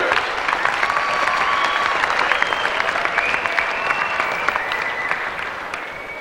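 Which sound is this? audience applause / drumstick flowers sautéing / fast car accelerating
audience applause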